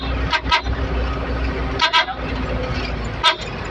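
Short car horn toots sound close over a rumbling vehicle on a rough rural road, in three bursts: a quick double honk, then another double honk, then a single toot.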